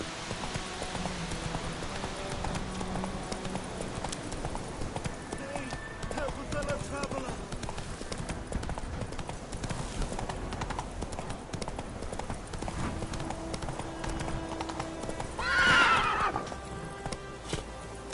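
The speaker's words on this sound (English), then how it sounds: "Whoa there, Roach" A horse gallops in The Witcher video game with rapid, continuous hoofbeats, and a sharp whinny rings out near the end, mixed with in-game voices and ambient sound.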